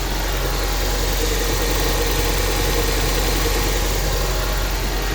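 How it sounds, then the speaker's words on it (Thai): A 1997 Toyota Corona Exsior engine idles steadily and loudly nearby, a smooth continuous rumble with a faint mechanical vibration and no revving. "เครื่องยนต์เดินเรียบๆนะครับ ไม่มีกระตกไม่มีกระชากนะครับ"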